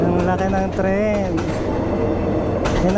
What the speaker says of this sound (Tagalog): Ang laki ng tren.